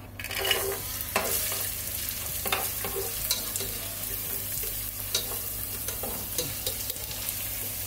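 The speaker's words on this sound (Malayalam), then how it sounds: "റേസിൻസ് പെട്ടെന്ന് നമുക്കിതങ്ങ് ഫ്രൈ ചെയ്ത് എടുക്കുക" Almonds and raisins frying in a pan, a steady close sizzle broken by repeated scraping stir strokes at irregular intervals, with no voices.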